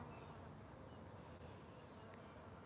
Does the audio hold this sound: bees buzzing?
yes